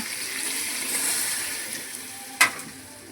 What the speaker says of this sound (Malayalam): ആവശ്യത്തിനുള്ള വെള്ളം ഒഴിച്ച് കൊടുക്കുക.